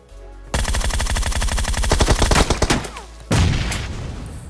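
Dense automatic gunfire from the PUBG Mobile battle royale game, loud rapid bursts of rattling shots lasting several seconds, a brief gap, then a heavy boom-like blast near the end; no talking.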